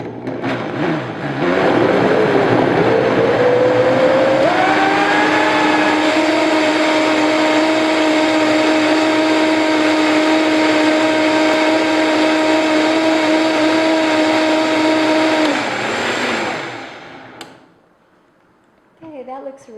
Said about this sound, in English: with these high-speed blenders, you can really fill up that carafe to the top. So let's get that blending